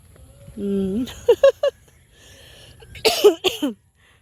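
A few short, sharp coughs in two separate bursts, close to the microphone, with a brief vocal sound before them against quiet background noise.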